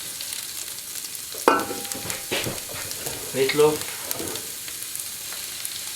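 Ham sizzles in butter in a pan: a steady, bright frying hiss with a few clanks of utensils and a brief spoken word over it.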